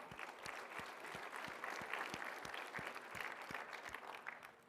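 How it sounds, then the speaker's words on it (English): A keynote audience at a software conference claps for the gold sponsors: a continuous, fairly distant wash of applause with a few crisp individual claps close by, steady from start to finish. "round of applause for them as well."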